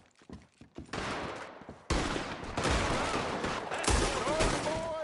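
A shootout in the video game Red Dead Redemption 2 opens with a few scattered gunshots, then erupts into dense, loud, continuous gunfire from several weapons that rolls on without letup.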